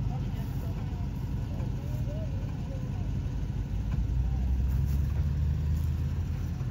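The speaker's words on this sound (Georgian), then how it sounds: "და გიორგის მანქანა მიდის წი" A Toyota car's engine hums and rumbles as the vehicle drives off on a mountain route in Tusheti, Georgia, a steady mid-level drone that swells slightly louder toward the end.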